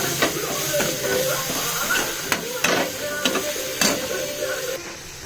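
Ginger garlic paste frying in a pan for an egg, potato and tomato curry, giving a steady close hiss and crackle with a few sharp scrapes and clicks of stirring throughout.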